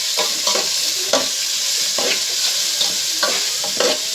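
Beef for beef pares stirred in a hot pan, with a constant loud sizzle punctuated by repeated scraping strokes of a utensil, close and without talk.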